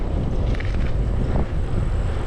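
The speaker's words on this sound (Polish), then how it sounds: "wieje dziś niemiłosiernie" Strong wind blows across an open countryside route in northern Poland, a loud, steady low roar with gusty buffeting throughout, heard alone without voices.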